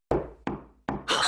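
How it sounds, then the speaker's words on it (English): Three sharp knocks on a door in the Steins;Gate visual novel, spaced evenly and close up, the last one running into a burst of bright hiss or noise. "There's a knock on the door."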